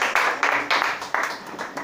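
Congregation at a church worship service clapping together in short rhythmic bursts, a close, dense patter of hands repeating steadily with no talk over it.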